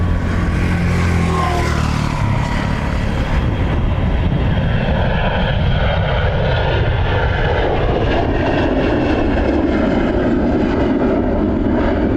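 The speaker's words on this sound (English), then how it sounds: "So Privilege style A330 next." Privilege Style Airbus A330 jet airliner at Dublin Airport, a loud sustained engine roar that builds and broadens as the aircraft passes close by, with no talk.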